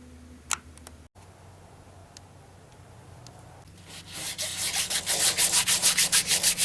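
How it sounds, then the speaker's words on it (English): Rhythmic rubbing strokes of sandpaper on a wooden ficus bowl start after a few quiet seconds, growing louder and steady in a fast back-and-forth pattern. "I got a lot of sanding to do on this."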